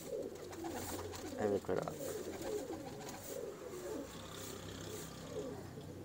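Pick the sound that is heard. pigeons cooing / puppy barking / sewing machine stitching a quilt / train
pigeons cooing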